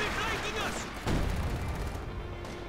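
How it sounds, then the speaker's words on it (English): Artillery barrage in the strategy game Company of Heroes 2, landing on an enemy battle group headquarters: a muffled boom and rumbling impacts over a dense battle soundscape, mixed with a commentator's voice. "And another barrage going here, striking down upon Siberian's battle group headquarters."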